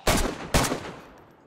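Two sharp gunshots in the video game DayZ, about half a second apart, loud and close, each trailing off into a reverberant tail.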